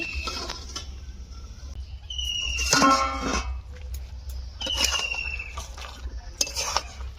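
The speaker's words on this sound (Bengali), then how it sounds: "আমি ঢাকনাটা খুলে নিচ্ছি" A metal pot lid lifted off a Digha-style crab curry, with bright metallic clinks and a ringing clank or two against the pot, close and fairly loud over low background hum.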